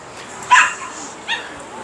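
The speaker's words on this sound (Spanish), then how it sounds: "¿Por qué hay perros que ladran aquí?" Two short dog barks or yips, the first louder and the second softer, sounding at a moderate distance against a quiet background.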